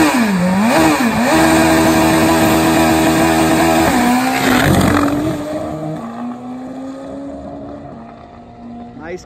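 A Kawasaki drag racing motorcycle makes a straight pass at a drag strip, a loud high-revving engine howl rising through gear changes, then receding and fading as it pulls away.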